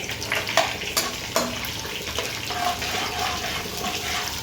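Urad dal and chana dal frying in oil in a pan with curry leaves: a steady crackling sizzle with a few sharp pops early on, close and fairly loud, no talk.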